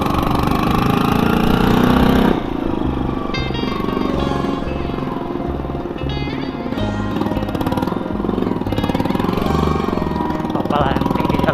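A recently serviced motorcycle on a long solo ride to Palembang runs with a loud, continuous engine drone and road rumble, the pitch shifting slightly as it rides on.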